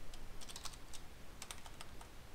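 Quick, uneven clicks of typing on a computer keyboard in short bursts with brief pauses, close and crisp against a quiet background.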